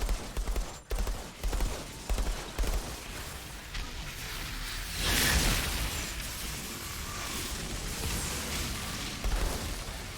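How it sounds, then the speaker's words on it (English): Submachine gun bursts and explosions in the video game Epoch, rapid loud volleys of fire with heavy booms layered over a dense, continuous battle din. "with this submachine gun, I can set everything on fire, and I can reload to explode things in melee"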